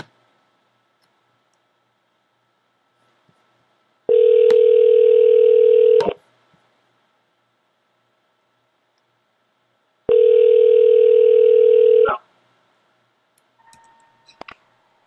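A WebRTC peer-to-peer video call ringing in a web browser, set up without plugins: two steady electronic ring bursts about two seconds each, separated by a few seconds of silence, with faint clicks at the end.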